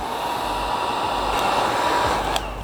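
A heat gun blows steadily on headlight tint film on a Nissan Leaf, a continuous close airy hiss with a couple of faint clicks near the end.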